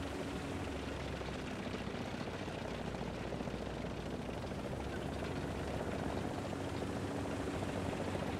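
A helicopter flies in the War Thunder video game, its rotor and engine making a dense, steady roar that fills the whole stretch without a break.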